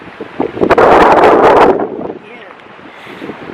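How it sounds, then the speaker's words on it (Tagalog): Strong wind gusting across the microphone on a rainy coast in Bicol, a loud roaring buffet for a couple of seconds that then eases, with a person talking. "Lakas ng hangin. malakas ang hangin."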